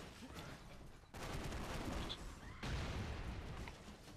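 Gunfire and explosions from The Expendabros video game, shotgun blasts and incendiary grenades, rumble in dense, noisy bursts with two sharp jumps in loudness, a steady chaotic barrage throughout.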